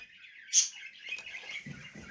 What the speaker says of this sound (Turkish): Bu arada arkadaşlar kuşlarımız orada ötüyorlar.